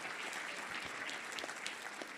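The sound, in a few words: crowd applause for President Lula at evangelical meeting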